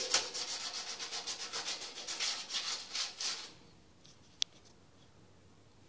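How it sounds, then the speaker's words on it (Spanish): PVC pipe for a sink siphon being hand-sanded, a fast steady scratching back-and-forth for about three seconds, close up, then near silence with one small click. "De igual manera, damos una lijada acá. Esto es para que pegue bien la pega."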